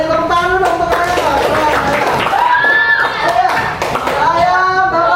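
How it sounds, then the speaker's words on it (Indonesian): Children clap for a classmate in a classroom, brisk clapping mixed with lively talking and voices over it. "Beri tepuk tangan dulu untuk Raya."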